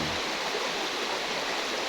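A river flows in a continuous broad rushing wash of water, steady and fairly loud, with no talk over it.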